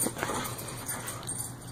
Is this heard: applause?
no